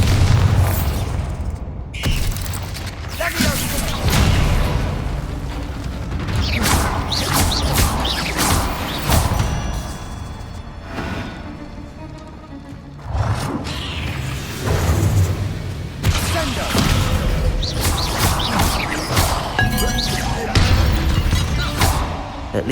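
The Bombarda spell in Hogwarts Legacy sets off repeated heavy booms and crashes inside a tomb. The loud, close blasts come in bursts with short quieter gaps and debris-like rumbling between them, along with brief spoken lines.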